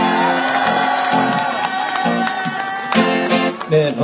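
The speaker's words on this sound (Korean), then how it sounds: "우리나라 여러분들을 뜨거운 박수로 맞이해 주시기 바랍니다" A crowd at a Korean Wednesday rally protesting the comfort women agreement greets performers with cheering and clapping, a lively burst of shouts and applause with voices over it.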